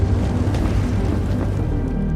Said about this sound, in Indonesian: Ia tidak berhasil hingga terjadi ledakan besar yang mengakibatkan ia meninggal di tempat.